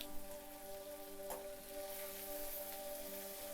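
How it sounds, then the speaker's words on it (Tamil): Onions and green chilies sauté in a pan for a Tamil fish puttu dish, giving a faint, steady sizzle with a soft crackle, heard alone. "வெங்காயமும் பச்சை மிளகாவும் கொஞ்சம் வதங்கும் போது"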